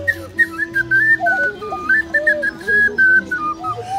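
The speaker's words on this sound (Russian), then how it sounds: "Свистопляски, это вот все дули вот в такие свистулечки и танцевали." A Russian folk clay whistle from Kolomna is blown in a lively tune of warbling high notes that rise and fall. It is near and fairly loud, with short breaths between phrases and no talking.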